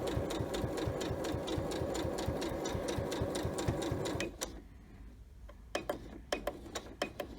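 A sewing machine stitches binding on a mug rug in a fast, steady mechanical patter that stops partway, followed by scattered clicks and taps.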